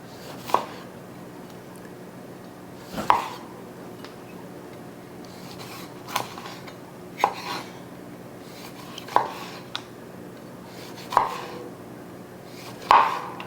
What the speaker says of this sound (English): You want thin slices on the lemon